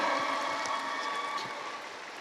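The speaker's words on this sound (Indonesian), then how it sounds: "Tepuk tangan untuk Rizik Sihab." An audience applauds a student at an Islamic gathering, a steady wash of many hands clapping at moderate distance, continuous and fairly even throughout.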